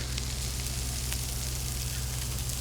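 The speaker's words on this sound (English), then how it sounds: "So this is sizzling good." Food sizzles in a preheated pan with olive oil over medium-high heat, seasoned with salt and pepper. The frying hiss is steady and fairly soft, with faint crackles and no talk.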